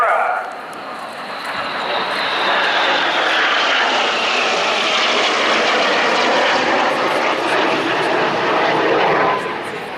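Red Arrows jets roar loudly overhead during an air display at RIAT 2016, a broad sustained rumble swelling and holding for ten seconds as the formation passes upside down in close formation.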